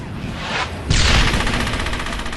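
Gunfire and a grenade blast in the World War II shooter Brothers in Arms: Hell's Highway, with rattling shots followed by a sudden loud explosion and a rapid burst of fire, close and dense, with no talk.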